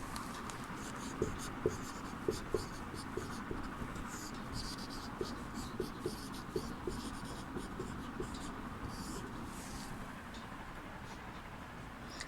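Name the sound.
writing on a board during a lesson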